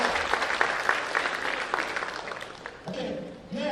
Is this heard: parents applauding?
yes